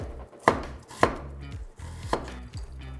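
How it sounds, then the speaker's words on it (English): A knife chopping onions on a cutting board, several sharp distinct chops at an uneven pace, close and clear with no talking. "Let's start first with chopping the onions."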